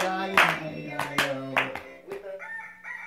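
Hands clap sharply about four times in an uneven rhythm while a voice sings a nursery song, close and moderately loud, followed by a higher sustained sung note.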